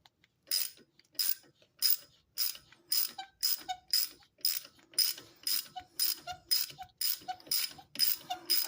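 A ratchet wrench clicks in quick, regular bursts, about a dozen strokes close by and fairly quiet, as brake caliper bolts are tightened on a Mercedes ML350.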